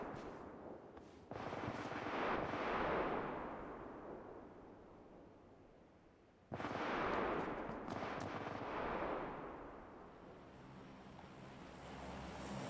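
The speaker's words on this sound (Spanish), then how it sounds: "Disparos." Gunfire in the PUBG Lite battle royale game, two loud broadband bursts of shots with rolling, wash-like echoes that decay slowly, separated by a quieter stretch, with no talk.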